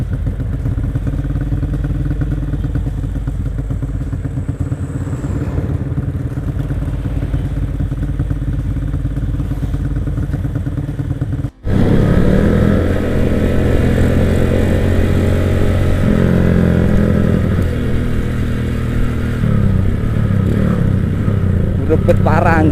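Motorcycle engine revving hard on a village road or racing track, a steady loud exhaust drone that jumps louder and rougher midway with rising revs, voices talking over it.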